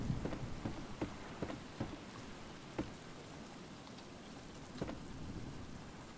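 Rain from a thunderstorm pours steadily in the survival video game Stranded, a dense hiss broken by several soft low thumps and crackles, with no talking.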